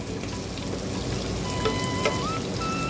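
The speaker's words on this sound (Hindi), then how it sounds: "हम प्याज तो गला रहे हैं।" Onions frying in a pan make a continuous, dense sizzling hiss that stays close and even for a few seconds, with faint clinks and a tone in the background and no speech.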